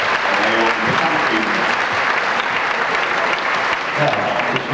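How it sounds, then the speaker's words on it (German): A 1983 Vienna bodybuilding championship audience applauds in a loud, continuous roar of clapping, with faint voices mixed underneath throughout. "Wir verabschieden uns mit einem Applaus für kurze Zeit"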